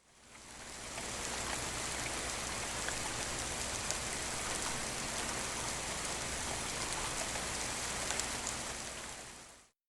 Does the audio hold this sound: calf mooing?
no